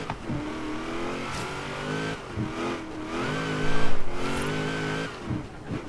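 Car engine in Forza Horizon 3 during a rainforest sprint race, revving repeatedly with rising pitch sweeps as it accelerates and shifts gears, loudest near the middle, close and dominant.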